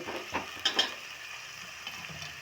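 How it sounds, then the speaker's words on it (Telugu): Drumsticks and onions fry together in oil in a pan with a faint, steady sizzle, broken by a few quick clatters of a spoon stirring against the pan. "మునక్కాయలు ఆనియన్స్ రెండు కలిపి ఫ్రై చేస్తా"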